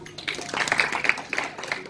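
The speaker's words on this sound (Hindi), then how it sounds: "जोरदार तालियां" Audience applause at a Ludhiana citizens' council ceremony honouring a retired air marshal: a steady patter of many hands clapping, moderate and slightly distant, with faint crowd murmur underneath.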